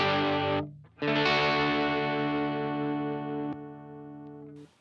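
Electric guitar through a distortion effects pedal, with sustained distorted chords ringing out after a brief pick at the start, then a fading tail and a final scrape, played alone.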